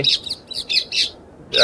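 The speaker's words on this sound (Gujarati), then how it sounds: "પોપટ બોલે છે" Parrots perched in neem trees in a village near Botad, Gujarat, give a run of shrill, squawky morning calls, about six bursts in quick succession, fairly close, with a brief pause before the last one.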